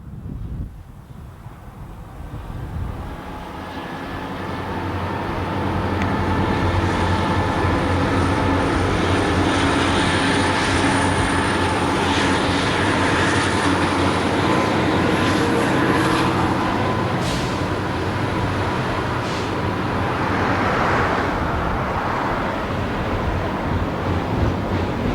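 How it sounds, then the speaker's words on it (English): A freight train hauled by three EMD GP50 high hood locomotives passes beneath an overpass near a trestle on a Southern Railway main line in 1989, a loud, steady rumbling roar that builds over the first few seconds and then holds. "Pulled by a trio of EMD GP50 high hoods, this train sounded great as it went under Ed"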